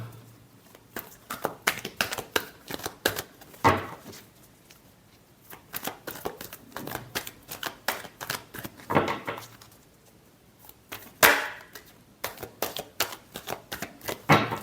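Tarot cards shuffled by hand in a series of quick riffling bursts, each a crisp rapid flutter of card edges, close up and separated by short quiet gaps, with no talking.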